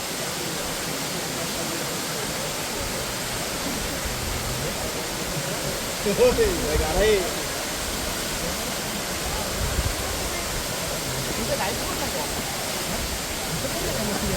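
Devkund waterfall, a steady, dense roar of rushing water throughout, with faint voices in the background.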